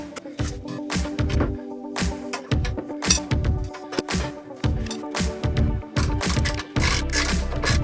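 A hand ratchet works loose the 18 mm lower shock absorber bolt on a BMW E46 330i, a fast, loud repeated clicking in rhythmic bursts, with no talking.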